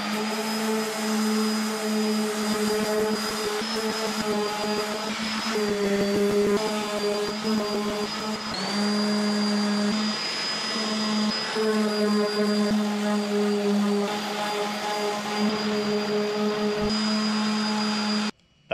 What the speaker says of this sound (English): I attacked that entire thing with 60 grit sandpaper on a DeWalt random orbital sander